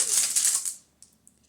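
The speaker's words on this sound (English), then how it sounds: "now let's shuffle again" Rune stones clatter and rattle together in a short burst of shuffling, loud for just under a second, then a couple of faint clicks follow in quiet.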